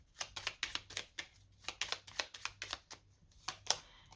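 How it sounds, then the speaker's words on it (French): Tarot cards are handled and laid down in a reading, a rapid series of about a dozen crisp, close card snaps and slaps in a fairly even rhythm. "Alors, je vais remettre une carte dessus."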